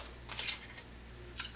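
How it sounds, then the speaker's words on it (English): Tarot cards are shuffled by hand in two short bursts of crisp riffling, close and moderately quiet, with a pause between them and a faint low hum underneath. "Let me see if I can shuffle these"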